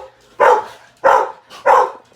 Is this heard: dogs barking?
yes